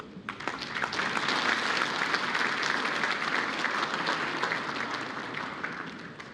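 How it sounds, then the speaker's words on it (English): A large audience at an evening exporter awards ceremony gives sustained applause, a dense, even wash of many hands clapping that holds steady throughout with no talking. "Please, another round of applause."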